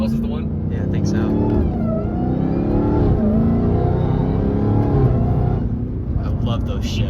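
Dodge Hellcat engine rumbling and revving hard through gear shifts, heard from inside the car on a road, loud and continuous with pitch sweeps at each shift while people talk over it.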